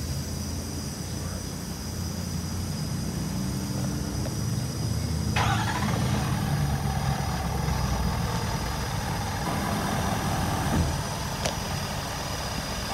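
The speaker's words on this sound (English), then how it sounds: "I'm going to go ahead and start this truck now." A truck engine cranks and catches about halfway through, then settles into a steady, close idle rumble with a brief clatter near the end; no one speaks.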